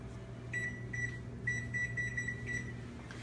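A kitchen timer beeps in short high-pitched bursts, several rapid groups repeating steadily over a low background hum.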